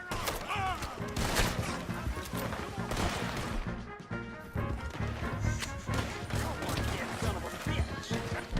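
Dense gunfire rattles through a shootout in Red Dead Redemption 2, with rapid shots and crashes layered over shouting voices. The sound dips briefly midway, then the firing resumes loudly.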